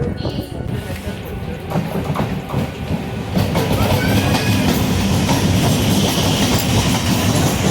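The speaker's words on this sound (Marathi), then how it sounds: "थोड़े ही समय में प्लेटफॉर्म क्रमांक 2 पर आ रही है रोहा ट्रेन" A Roha–Diva passenger train rumbles and clatters along the rails, growing louder as it pulls in at platform 2, with voices talking underneath.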